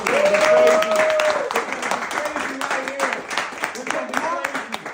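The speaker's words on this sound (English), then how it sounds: "Let's give him a round of applause." Scattered applause for the players before a billiards championship game, lighter clapping that runs under people talking and laughing nearby.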